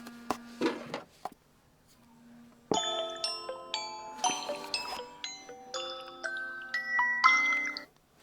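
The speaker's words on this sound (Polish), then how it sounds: "Jaki piękny dzwonek." A Motorola Edge X50 Ultra phone ringtone plays a bright, melodic chiming tune of rising and falling tones, loud and close, after a few short knocks and a low hum.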